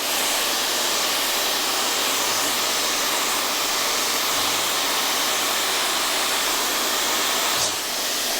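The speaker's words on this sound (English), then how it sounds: "The diffuser helps the curls dry while they are still holding their pattern" A hair dryer fitted with a diffuser runs steadily and loudly while drying curly hair, a continuous broadband whoosh that holds even throughout with slight dips as it moves.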